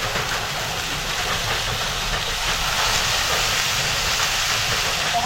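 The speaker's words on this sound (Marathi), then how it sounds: "आता आपल्याला ह्याच्यात ही भाजी टाकायची" Radish greens dropped into softened onion in a kadhai over a village cooking fire, giving a steady, loud sizzling hiss that runs without a break and with no talking.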